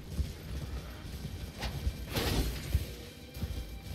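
A horse gallops in the video game Elden Ring, with low, muffled hoofbeats thudding under a dense wash of rumbling game noise and a couple of whooshing swells.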